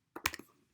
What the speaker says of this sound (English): In the word form, I'm going to type in